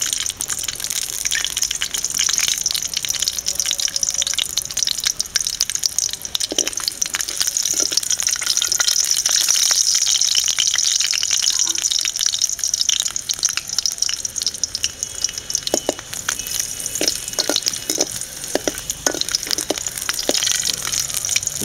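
Garlic fries in hot oil in a heated vessel, giving a loud, steady sizzle with dense crackling and popping that goes on throughout.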